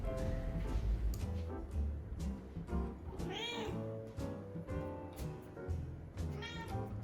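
A cat meows repeatedly nearby, several drawn-out, rising and falling calls in an uneven sequence, fairly quiet overall with no talk over them.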